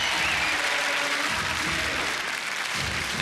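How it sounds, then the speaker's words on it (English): A TV studio audience at a Gladiators UK arena show claps together in a loud, continuous burst of applause that fills the moment, with a faint voice underneath. "look at that crowd as one in rhythm"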